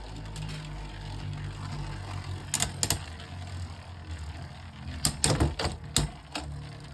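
A Beyblade Burst Pro Series Super Hyperion on its stamina tip, launched in right spin, whirs steadily in a stadium, with sharp clicking clashes near the middle and a quick burst of collisions toward the end.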